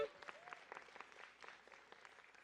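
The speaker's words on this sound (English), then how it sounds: "Let's give a round of applause for him." Audience applause at a cultural festival storytelling event, a steady patter of clapping from a crowd that carries on for the whole moment at a moderate level.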